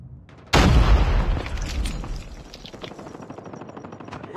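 A grenade goes off in a Call of Duty firefight: one sudden, loud, close blast with a heavy low boom, then a long rumbling tail mixed with crackling gunfire that fades over the next few seconds.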